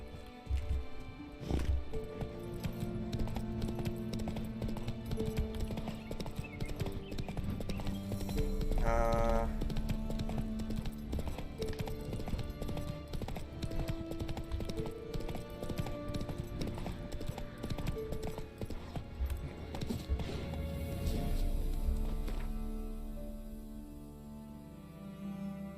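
Hooves of the horse Roach clip-clop rhythmically in The Witcher 3: Wild Hunt, galloping steadily under game music and ambient sounds with brief animal calls; no talking.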